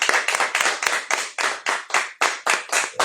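A church congregation claps together during a worship service, about a dozen sharp, fairly loud rhythmic bursts in steady succession with no voices over them.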